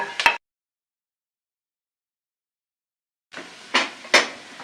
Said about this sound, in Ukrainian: я висипаю смажити моркву